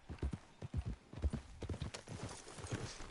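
Horse hooves clip-clop in Red Dead Redemption 2, a steady run of close, fairly loud strikes lasting the whole stretch, with a faint voice briefly underneath.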